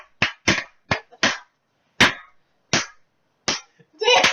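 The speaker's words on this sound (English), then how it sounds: "let's give a damn clap for Eve for getting on the top." Sharp separate claps ring out one at a time with gaps between them, loud and close, ending in a brief burst of faster clapping. They come as applause for Eve.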